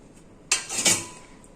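Boiled potatoes are stirred into a loose batter in a bowl for bhungla bateta, giving one short clattering clink of a utensil against the bowl, close and moderately loud, with no talking.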